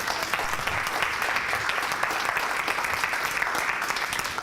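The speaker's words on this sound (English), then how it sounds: "What about a big round of applause for Doug?" An audience gives Doug a big round of applause after his talk, sustained, even clapping that fills the room from start to end, with no speech over it.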